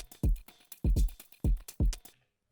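A sliced drum beat plays from an Elektron Octatrack sequencer: four heavy kick hits in a steady, loose rhythm with sharp hats and snare-like ticks between them, close and punchy, then cutting to silence.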